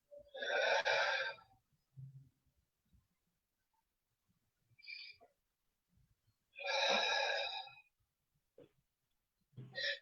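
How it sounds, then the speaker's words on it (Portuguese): Two deep breaths during a guided breathing pause, each a long broad breathy rush of air lasting about a second, close and fairly loud, with short quiet gaps and faint small sounds between, no talking. "Convido a 2 respirações profundas."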